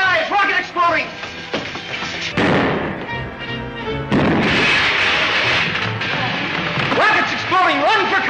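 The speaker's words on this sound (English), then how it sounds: "Rockets exploding! Run for cover!" Rockets exploding aboard a spaceship in a dramatic sci-fi scene, a run of loud booming blasts and crashes with rumbling debris, mixed with shouting voices.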